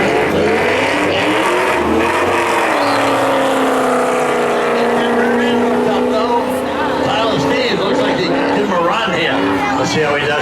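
Racing pickup trucks roar at a night spectator drag strip at Beech Ridge, a loud, continuous engine drone that rises in pitch as they accelerate, with a commentator talking over it.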